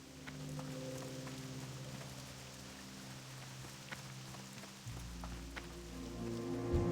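Steady rain falls in World of Warcraft, a continuous even patter on the ground that runs the whole clip at moderate level, with a few faint clip-clop footfalls and no talking.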